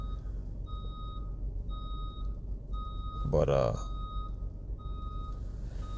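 A vehicle outside sounds reversing beeps, a steady series of evenly spaced single beeps at moderate distance over low background rumble, briefly interrupted by a short spoken word.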